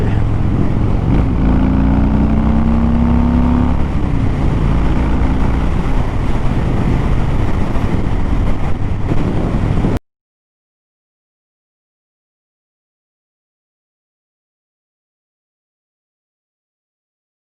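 Harley-Davidson Low Rider S demo motorcycle riding along a country road: a loud, steady engine drone with rising pitch sweeps as it accelerates, heavy wind buffeting over it, stopping abruptly into silence partway through.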